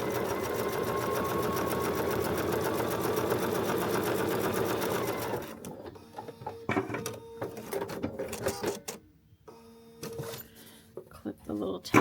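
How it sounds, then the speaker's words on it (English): A sewing machine sews a piece onto a foundation paper pieced feathered star quilt block, a steady rapid rattle running about five seconds before stopping, followed by clicks and fabric handling. "now we are back at the machine to sew that part on"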